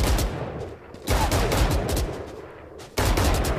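Rapid bursts of gunfire in the shooter game Valorant, loud and close, in two sustained volleys broken by a brief lull.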